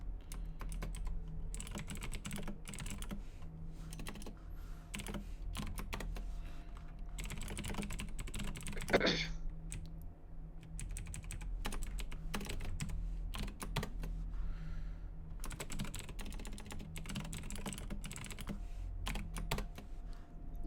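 Someone types on a computer keyboard during an online tabletop role-playing session, irregular bursts of soft, close keystrokes separated by short pauses, quiet and without talk.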